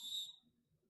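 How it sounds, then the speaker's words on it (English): Short shrill referee's whistle blast at a high school soccer match, sounding near and clear at the start, then fading into faint low crowd murmur. "we're going to get a whistle"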